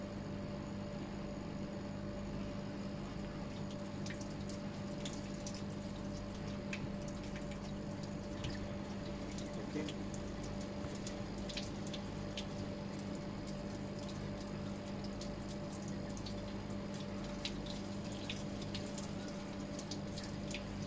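Gracilaria red algae being washed in water in a lab setting, a steady, even splashing and trickling wash that runs throughout with a faint hum underneath, no talking.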